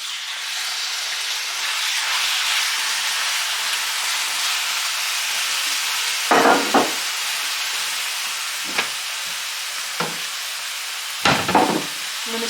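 Diced rabbit meat sizzles in a hot pan with a constant loud hiss and crackle, broken by a few brief louder clatters of stirring or handling, with no talk.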